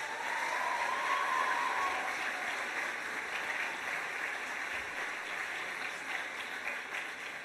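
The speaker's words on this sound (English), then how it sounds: "So let's give you a round of applause too." A steady wash of audience applause fills an award ceremony hall, many hands clapping together at close range, holding strong before easing slightly toward the end.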